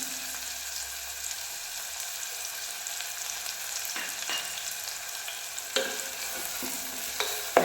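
Cumin seeds frying in a small amount of oil in a pan while gravy is being made, giving a steady soft sizzle with a few sharper crackles and stirring clinks near the end. No one speaks.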